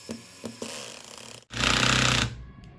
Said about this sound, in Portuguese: Primeiro, eu vou parafusar na velocidade 1.